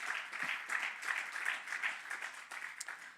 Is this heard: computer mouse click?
no